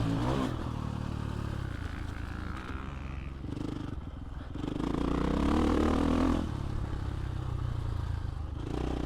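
Husqvarna 450 Factory Edition dirt bike riding a triple jump, engine droning and revving steadily throughout with a louder surge midway as throttle comes back on, with some clatter of the chassis.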